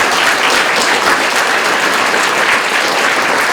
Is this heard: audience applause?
yes